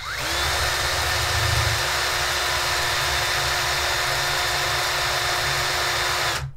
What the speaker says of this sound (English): Let's fire up our drill and see what kind of voltage we get from phase three.